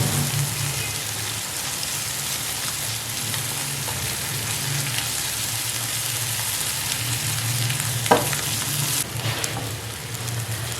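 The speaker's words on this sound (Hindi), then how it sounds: "ज़बरदस्त आपके जो है वो ऑमलेट फ्राई हुआ है" An egg and onion omelette fries in a pan, a steady, rain-like sizzle that holds evenly for several seconds, broken by one sharp clink near the end and a slight change in tone afterward.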